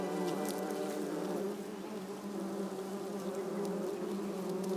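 Honeybees buzzing inside a hive in Heidelberg, a dense, steady hum of many insects that fills the whole stretch without pause, close and even in level.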